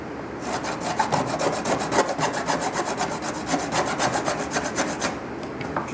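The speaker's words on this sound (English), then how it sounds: "I'm going to use my file, and I am going to attempt to put a taper on that" A hand file rasps steadily at a helmet part, cutting a taper with rapid, evenly spaced back-and-forth strokes, close and continuous with no talking.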